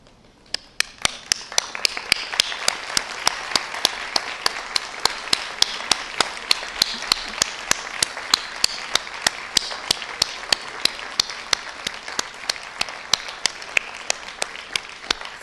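Convocation audience applauding graduands' families and friends in a standing ovation, dense sustained clapping from a large crowd with sharp individual claps popping out, steady throughout.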